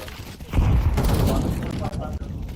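Gunfire in a Counter-Strike esports match at a Kansas City event: a burst of shots and rapid reports rings out under steady, excited commentary.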